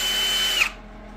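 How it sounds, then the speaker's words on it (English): Power drill whining steadily at high speed as it bores out parts on a car fender, then cutting off abruptly partway through, leaving a quiet room tone. "I'm gonna get these drilled out"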